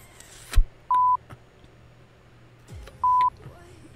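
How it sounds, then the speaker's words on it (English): Two short, clear electronic beeps during a League of Legends match, spaced about two seconds apart, with soft background clicks and thumps between them. "That was a delayed beep"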